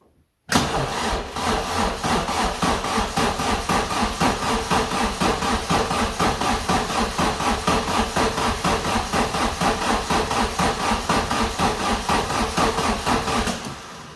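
A 1994 Vauxhall Astra GSi red-top engine cranks on the starter for about thirteen seconds during a compression test, a steady rhythmic churning that is loud and close, with no talking.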